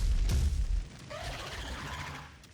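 Shooting a hell guard in the DOOM video game, a heavy booming blast at the start that fades into a rumbling, whooshing tail, fairly loud and close.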